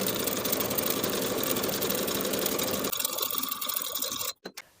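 A sewing machine stitches the seams of lined cigarette pants, a fast, steady mechanical whirr running close and continuous, slowing partway through and then stopping abruptly.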